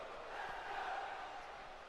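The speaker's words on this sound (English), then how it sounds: "Crowd seems to be into his theme song again here." Arena crowd in the WWE 2K20 wrestling game cheering in Philadelphia during a wrestler's entrance theme, a steady broad roar of many voices that holds at a fairly loud level for about two seconds.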